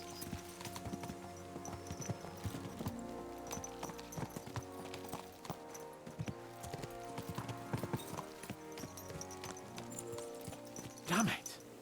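Horses' hooves clip-clop at a steady gallop-like rhythm across the medieval countryside in Kingdom Come: Deliverance II, continuous and moderately close, with a brief louder thump near the end.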